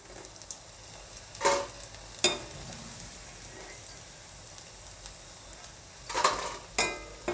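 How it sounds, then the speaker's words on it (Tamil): Bean pakoda fries in hot oil with a soft, continuous sizzle. A few sharp clinks and scrapes from stirring stand out above it. "இது கொஞ்சம் நல்லா பொரிஞ்சு வரட்டும்."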